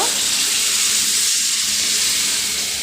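Water poured into a cooking pot of greens and potatoes, a steady close rush of flowing water running without pause throughout, with no voices.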